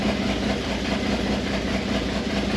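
An old engine, restarted after sitting for 15 years, idles with its choke on, a loud, steady low rumble that holds unbroken and close by.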